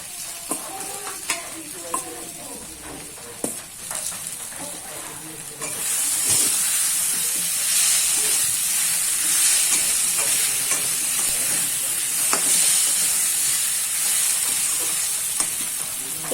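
Fried potatoes tipped into a pan of sautéed pointed gourd and prawn curry, bringing a loud, steady sizzle and hiss with clattering stirring, close and continuous, with no voices.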